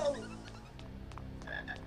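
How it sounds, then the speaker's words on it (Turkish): A frog croaks in a Harry Potter video game, giving several short raspy croaks in a loose rhythm over a low, steady game ambience. "Aa kurbağa."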